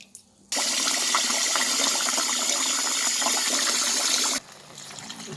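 Water gushes steadily for several seconds in a loud, continuous pour onto rice, then cuts off abruptly into quiet.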